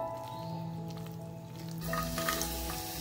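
Garlic, mustard seeds and lentils sizzle in hot oil as a tempering for tomato pickle, a soft steady crackle that swells louder partway through, with some stirring.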